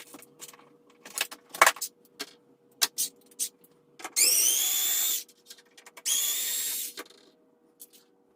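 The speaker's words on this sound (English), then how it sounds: "I can just use a screwdriver." Metal clinks and scrapes from a screwdriver working a picture frame apart, then two sustained whirring, grinding runs of a few seconds each, close and fairly loud, with no talk.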